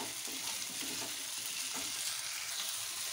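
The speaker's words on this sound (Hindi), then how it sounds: "अब हम इसमें अपनी टमाटर डालते हैं। टमाटर को भी मैंने बारीक काट रखा है, इसे भी सॉफ्ट होने तक भून लें।" Finely chopped tomatoes fry in a pan for aloo gobi matar, a faint, steady sizzling hiss with soft stirring movements and no speech.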